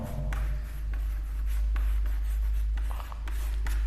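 Pen scratching on paper while a graph of the identity function is drawn, a steady run of soft, close strokes and rubs over a constant low electrical hum, with no talk.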